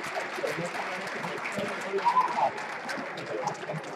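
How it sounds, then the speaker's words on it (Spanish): Audience clapping at a robot combat competition, a moderate, steady patter of applause with a few louder swells, voices mingling in the crowd. "Pues muy bien, una función de aplauso."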